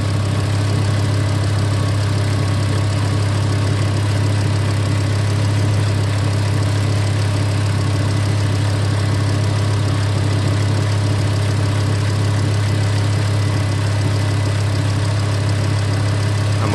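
Steady, close car engine idling with a constant low hum and rumble, unchanging and uninterrupted throughout.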